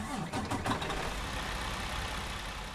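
A Western Star 49X truck with a DD15 diesel engine in American Truck Simulator cranks and catches, then settles into a steady, low, rumbling idle close by.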